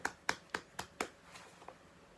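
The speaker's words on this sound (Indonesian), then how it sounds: "Tepuk tangan untuk Adam." A few classmates clap for a pupil who answered correctly in a simulated classroom lesson, about five distinct claps in an even rhythm, then fading into a faint, sparse tap.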